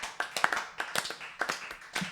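Audience at a live show clapping somewhat faster, with irregular bursts of several hands clapping in loose rhythm, fairly close and with no talk.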